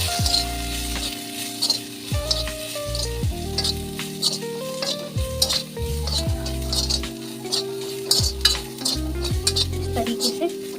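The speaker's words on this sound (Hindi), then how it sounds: "इसको अच्छे से फ्राई करेंगे हम" Chopped cabbage fries in a pan for potato patties, with a steady sizzle and frequent metallic scraping and clinking as a utensil stirs it against the pan.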